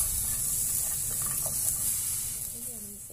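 Steady hissing sizzle of water boiling off in a hot pan while cooking Vietnamese beef stew, a constant bright fizz that eases slightly toward the end, with faint voice underneath.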